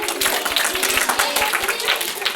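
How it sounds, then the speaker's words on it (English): An audience claps for a volunteer child called up at a folktale storytelling event, a steady burst of applause lasting a couple of seconds with some crowd noise. "Give her a nice round of applause"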